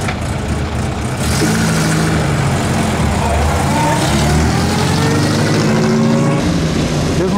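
A Ferrari at the Mille Miglia road event runs steadily and close, a continuous engine drone with shifting revs over background crowd chatter and talk throughout.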